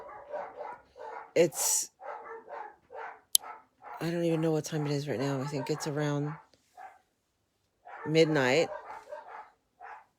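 Chained dogs bark outdoors on a cold night around midnight, loud drawn-out barks and howls near the microphone, with a person talking before and between them.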